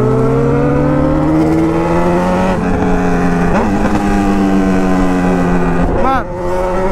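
A Honda CB1000 motorcycle with its fuel-injection warning light on and a loose mirror revs hard, its engine note climbing steadily in pitch. The loud, close, continuous roar dips briefly near the end.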